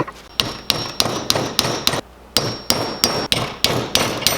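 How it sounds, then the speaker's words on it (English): Steady metallic hammer taps, about three per second, shaping a titanium fishing lure body on a workbench; close, sharp and evenly spaced with a faint ringing tone. "Tapping here, tapping there, bending this, that, and the other thing."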